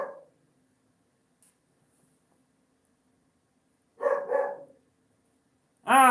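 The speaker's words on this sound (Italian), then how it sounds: "Ah, i cani." Dogs bark at a distance in two short bursts, a quick double bark and then a sharper, louder one, separated by a long quiet stretch, with no talk.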